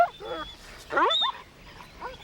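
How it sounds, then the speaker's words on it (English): A dog whimpers and yips in short, high, strained bursts, loud and close, with a pause between the cries indoors. "This dog tried to bite me."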